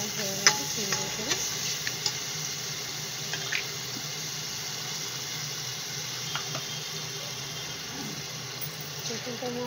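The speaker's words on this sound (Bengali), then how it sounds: "ভালো করে মশলাটা মিক্স হয়ে গেলে আমি কিন্তু গ্যাসে দিয়ে রাখবো।" Spice paste being stirred and fried in a pan over a gas flame for a dal dish, with a steady low sizzle and hiss and scattered soft scraping clicks from the spoon.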